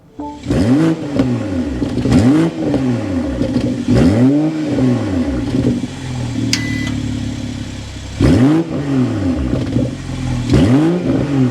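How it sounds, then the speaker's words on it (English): A 2024 BMW M340i engine starts and revs repeatedly nearby, each blip rising and falling in pitch with a throaty exhaust rumble between revs. "start it up so you can hear that exhaust note"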